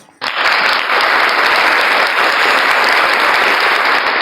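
A crowd bursts into loud, sustained applause after a short quiet moment, the clapping holding dense and even until the end.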